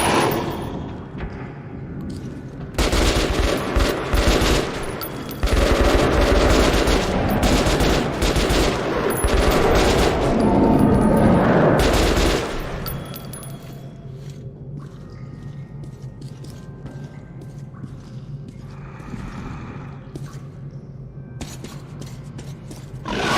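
Gunfire in the video game Metro Last Light Redux: dense bursts of loud automatic shots and blasts for several seconds, then fading into quieter game ambience with scattered softer sounds.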